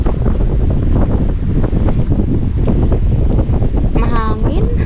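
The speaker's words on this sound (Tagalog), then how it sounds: "Mahangin." Strong wind buffets the microphone on a bridge beside a lake, a constant roaring rush filling the whole stretch, with a brief voice-like tone surfacing near the end.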